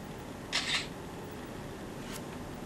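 A quick electronic camera shutter click from a DOOGEE X5 MAX smartphone sounds once, crisp and close, followed by a fainter tick over quiet background hiss.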